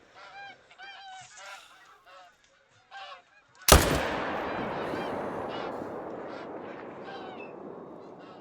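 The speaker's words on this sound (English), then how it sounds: "Whoa, that was a terrible shot." A rifle gunshot in a hunting video game cracks out sharply after several honks from nearby geese. A long rolling echo follows the shot and fades away slowly.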